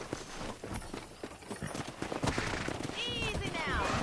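Hooves clip-clop in a quick rhythm in Red Dead Redemption 2 under someone talking, followed by a horse whinnying near the end.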